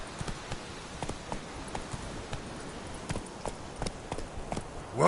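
Roach, a horse in The Witcher 3, trots with a steady clip-clop of hooves, the beats evenly spaced and fairly close, heard alone without voices.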